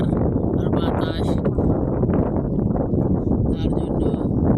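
Steady wind blows hard outdoors in a village among overhead wires, buffeting the microphone as a constant loud rush throughout, with faint rustling underneath.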